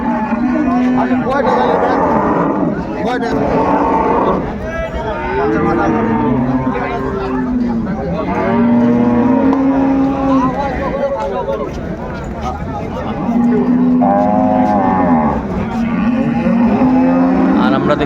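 Cows and calves low repeatedly at a busy cattle market in Ambari, Dinajpur, with loud overlapping moos running beneath continuous talk and crowd noise.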